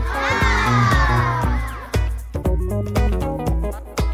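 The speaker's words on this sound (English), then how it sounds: "Cat." Toy cat meowing, a bright electronic meow followed by a series of regular clicking or tapping beats, loud and close, with no talking over it.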